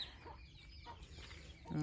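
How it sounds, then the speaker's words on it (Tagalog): Soft, quiet clucking from broiler chickens nearby, a few short murmured calls against low background noise. "Nya ang mga puti nga manok, broiler nga manok, gibuhian nila."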